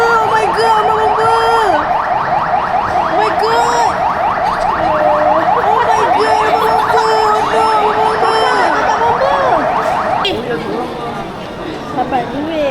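A fire engine siren wails at a KidZania theme park play area, a loud, steady cycling tone over constant crowd chatter and children's voices, cutting off near the end.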